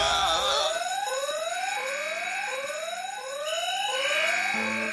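Fire alarm going off in a school hallway in a fantasy sitcom, a loud electronic tone sweeping upward again and again in a fast repeating cycle, continuous and close, with no talk over it.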